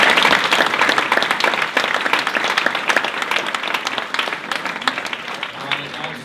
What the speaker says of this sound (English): Can we get a round of applause for the library?